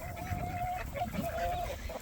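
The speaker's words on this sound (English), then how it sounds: "My chicken." Chicken clucking and calling at a backyard coop, a continuous run of mid-level fowl vocalizations with no talking.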